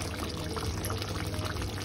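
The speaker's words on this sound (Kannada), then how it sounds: "ನೀರು ಹಾಕಿದ್ದಾರೆ ಸ್ವಲ್ಪ" Water poured into a pan of brinjal (eggplant) masala curry being cooked for gravy, a steady close splashing pour lasting about two seconds with no talk.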